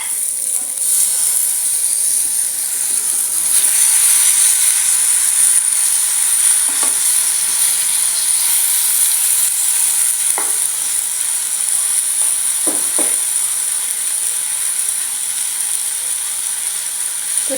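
Mango pieces sizzle in a pan for a Sri Lankan mango curry, giving a steady, loud frying hiss throughout with a few brief scraping clicks from stirring.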